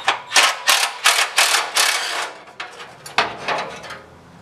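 Ratchet wrench turning out 7/16 inch screws with attached washers from a Jeep CJ7 hood latch, a rapid series of close mechanical clicks in bursts, then a few slower ratcheting strokes.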